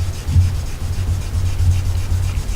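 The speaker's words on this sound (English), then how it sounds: "And you're polishing the steel, and at the same time this mud" Single-bevel knife steel worked back and forth on a fingerstone with a water slurry, giving a steady low gritty rubbing with soft stroke pulses, close and continuous with no talk.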